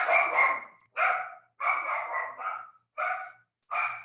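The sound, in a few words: dogs barking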